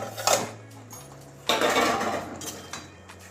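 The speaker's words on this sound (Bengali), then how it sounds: "এবার আবারও ঢাকনা খুলে নিচ্ছি।" Someone lifts the lid off a pot of boiling pasta. A sharp metallic clink is heard, then a second clatter, over a low simmering hum.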